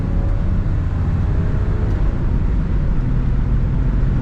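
A 1991 BMW 325i convertible drives under acceleration, its engine drone blended with steady road and wind noise, loud and continuous without pauses.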